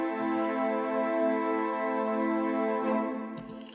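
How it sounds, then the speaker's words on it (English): Sampled strings in a medieval-style cinematic theme sustain a long note, then break into short staccato strokes near the end, loud and alone with no voices. "We have a long note and staccato,"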